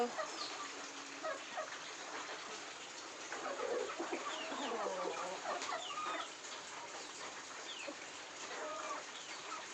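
Native country chickens cluck and an old rooster, over four years, calls in short bursts, moderately close against a steady farmyard background with no talk.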